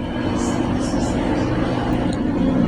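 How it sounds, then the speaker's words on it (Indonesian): A loud motorcycle passes by outside, its engine rumbling steadily in the background beneath a person counting crochet stitches. "ada suara motor gede banget"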